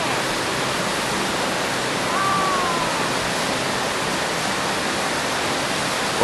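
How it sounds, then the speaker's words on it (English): A rushing river on a snow-covered mountain in Nagano, Japan, roars in a loud, constant broadband wash that stays steady throughout, with a faint brief chirp partway through. "enjoy the beauty of this snow-covered mountain, all to the sounds of a rushing river"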